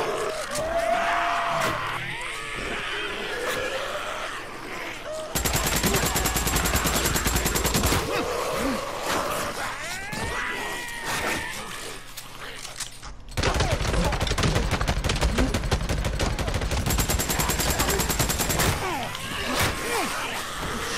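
Repeated bursts of rapid gunfire from a weapon firing stamina ammo in the video game Days Gone, loud and sustained in two long volleys over a busy, clattering game soundscape.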